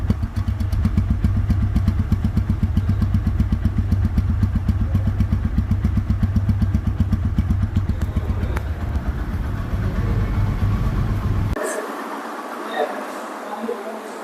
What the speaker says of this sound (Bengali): রানিং অবস্থায় গাড়িটির সাউন্ড শুনুন